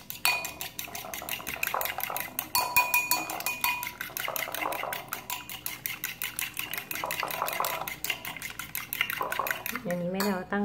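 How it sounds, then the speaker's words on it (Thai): Rapid metallic clicking of a whisk beating eggs against a bowl, fast and steady, up close, with a voice speaking briefly at the end. "จะตีไข่ก่อน"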